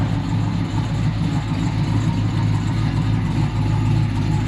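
A Corvette's engine rumbling low and steady as the car rolls slowly along a road, a deep continuous idle-like drone close by with no voices.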